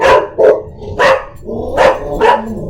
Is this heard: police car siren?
no